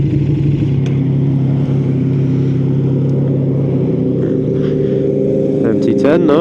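A Yamaha MT-10 motorcycle rides past in Sandbanks, its engine a loud, steady growl that rises into a brief rev near the end, with another engine rumbling close by and a voice speaking over it.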